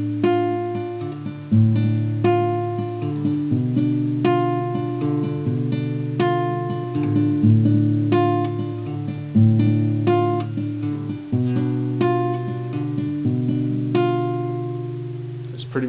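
Acoustic guitar played with a steady fingerpicked pre-chorus pattern, plucked notes ringing in a repeating alternating figure with sustained low bass tones, alone and fairly close with no talking.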